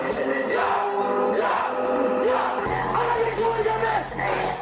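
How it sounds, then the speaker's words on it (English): Concert crowd at a 2016 show in Florida, yelling and cheering loudly and continuously over music with a pulsing bass, many voices blending into a dense roar. "performing that song, and the crowd is going nuts for it."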